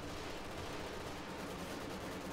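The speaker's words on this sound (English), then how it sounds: "And a second Stuka barrage goes off." Stuka dive bomber barrage in Company of Heroes 2, a faint, dense wash of rumbling explosions and gunfire-like crackle on a 4v4 battlefield at Ettlebruck Station, steady and distant with no clear individual blasts.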